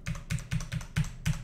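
Close, crisp keystrokes on a computer keyboard picked up by a Blue Yeti microphone: six evenly spaced clacks in a steady typing rhythm, with no voices.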